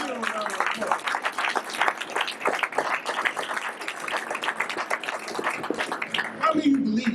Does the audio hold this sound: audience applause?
yes